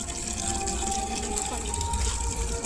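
Water flowing and gushing steadily nearby at a rainwater harvesting house at the Mysore Dasara exhibition, a constant rushing wash with a faint tonal hum, voices talking over it.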